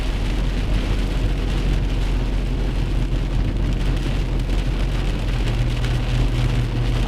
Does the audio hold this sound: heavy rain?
yes